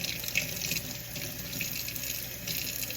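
A kitchen faucet runs steadily into a sink as freshly picked garden herbs are rinsed, a continuous close splashing hiss with no talking.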